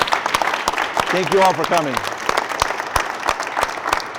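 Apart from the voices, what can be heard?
audience applause for panelists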